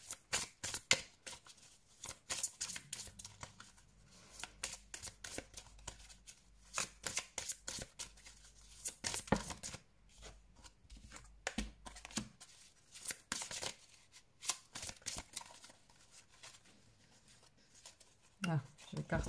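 Tarot cards are shuffled and laid out in bursts of papery flicks and slaps, close and fairly quiet, with a person talking intermittently in between.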